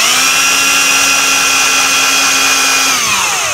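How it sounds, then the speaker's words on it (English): A power drill whines steadily at high speed for a few seconds, loud and close, drilling screw holes while installing an Andersen 2000 storm door latch and closer, then winds down as the trigger is released. "I'm going to go ahead and drill these other 2 holes"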